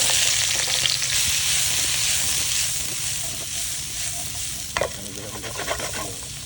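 Octopus fries in hot olive and vegetable oil, a loud dense sizzle throughout with stirring scrapes and a few crackling pops near the end, no talk.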